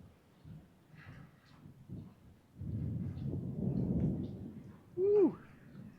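Distant thunder during an outdoor disc golf round near a covered bridge, a low rolling rumble swelling for a couple of seconds amid light background sounds, followed by a short voiced exclamation.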